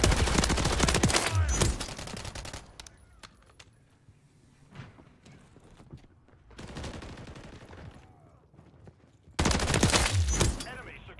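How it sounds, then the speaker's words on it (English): Gunfire in the video game Modern Warfare 3, with dense bursts of automatic weapon fire separated by quieter stretches, ending in a loud close fusillade. "Taking effective fire."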